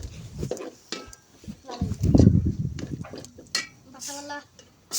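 A spoon clanks and scrapes in a pot while sliced onions fry for a country chicken curry, in irregular bursts of stirring with a voice talking in between.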